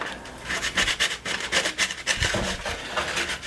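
A spoon stirs and scrapes through Bondo body filler while a taxidermy skull plate is being repaired: close, repeated gritty rubbing strokes in an irregular rhythm, with no voices.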